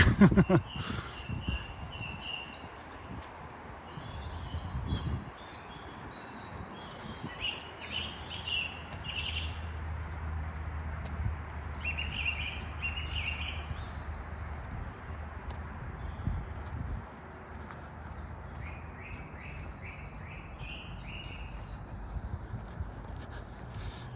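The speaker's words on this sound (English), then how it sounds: "Wow, there is so much bird song." Many birds singing and chirping together in Woolley Wood, Sheffield, in May, bright overlapping calls continuing throughout over a faint low traffic rumble, with no one speaking.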